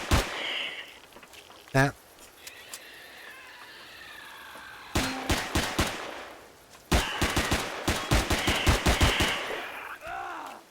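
Basic gun in Empyrion Galactic Survival firing in sharp, rapid bursts: an isolated shot early on, then two close, loud volleys of evenly spaced cracks, with a brief spoken word in between.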